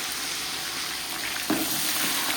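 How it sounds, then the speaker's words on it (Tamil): Onions fry for a biryani in hot oil, giving a loud, dense, continuous sizzle close by, with a brief stirring scrape partway through. "இந்த வெங்காயம் வந்து பார்த்தீங்கன்னா நல்ல ஒரு கோல்டன் ப்ரௌன் ஆகணும்"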